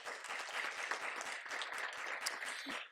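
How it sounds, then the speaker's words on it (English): An audience at a Surrey agriculture forum gives a round of applause, steady dense clapping from many hands, fairly even in loudness throughout with no voices over it. "Big round of applause."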